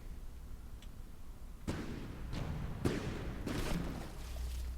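Warship guns firing in From the Depths, several booming shots spaced about a second apart over a low rumbling background, moderately loud and slightly distant.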